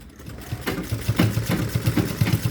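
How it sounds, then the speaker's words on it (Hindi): A sewing machine stitching elastic into the waistband of a salwar, running in a steady rhythmic chug that is loud and close for the whole stretch. "बस यहाँ लास्टिक में सिलाई लगा दी है"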